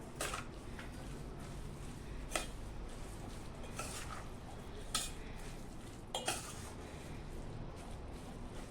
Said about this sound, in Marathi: हे बघा मस्तपैकी हलवून घेऊया हे लोणचं